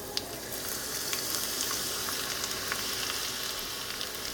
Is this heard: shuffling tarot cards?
no